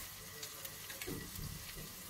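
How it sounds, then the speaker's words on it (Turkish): Sauce bubbling and sizzling in a pan on the stove, a close, continuous hiss with soft popping bursts. "Sosumu da şöyle göstereyim. Kaynıyor."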